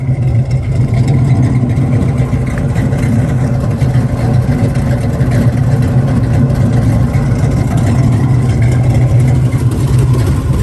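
A muscle car engine idles with a loud, steady, deep rumble and a faint extra noise from around the manifold, running continuously and close by.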